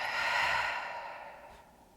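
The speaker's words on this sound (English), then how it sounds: "And exhale out the open mouth." A long, soft exhale out through the open mouth during a cardio yoga breathing exercise, close and steady, fading away over about two seconds with no talking.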